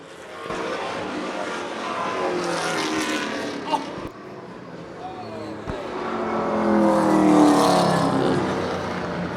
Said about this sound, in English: Cars spinning all over the place